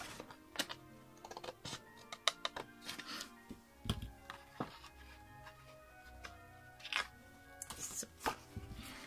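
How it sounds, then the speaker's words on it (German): A blade cuts into the sides of a cardboard box while an Advent calendar is being crafted from boxes, giving a run of close, sharp clicks and scraping taps at an irregular pace, with no talk. "Und jetzt schneide ich mir die Seiten so ein bisschen schräg ein."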